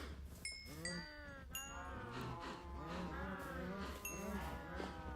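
Minecraft cows moo in overlapping calls from a herd, several low bellows and higher bleating tones over a steady game background, moderately close with no voices.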